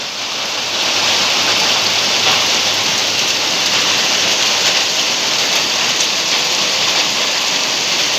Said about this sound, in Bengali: আজকে অনেক বৃষ্টি হচ্ছে, গতকালকেও হয়েছিল, আজকে মাশাআল্লাহ অনেক জোরালোভাবে হইতেছে